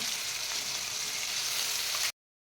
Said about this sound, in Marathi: आता हा मसाला तेल सुटेपर्यंत छान असा भाजून घ्यायचा आहे